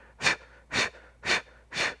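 Four forceful, evenly spaced exhaled breaths during a core exercise such as the Hundred, close and loud, each a short airy burst roughly half a second apart.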